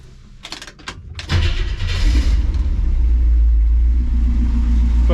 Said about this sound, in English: But I think I got a running car finally.